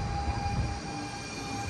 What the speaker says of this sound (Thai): รถไฟมาแล้วค่ะ